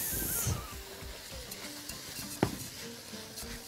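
Onion, pepper and rice being stirred in a frying pan, a gentle sizzle under soft scraping strokes and a single sharp clink of utensil against the pan.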